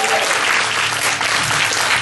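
Steady, dense applause from a large church congregation fills the whole stretch, loud and continuous without a break.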